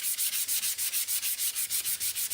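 Rhythmic block sanding on the back of a 1968 C10 cab, a steady series of close, even rasping strokes repeating about five times a second, with no voices.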